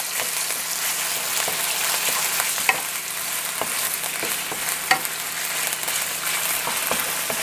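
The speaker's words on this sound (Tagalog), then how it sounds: "Papabrownin lang natin ng konti or until magkaroon siya ng whitish color." Chicken and shrimp browning in a pan for pad thai, a steady close sizzle with occasional scrapes and taps of a utensil stirring, no voices.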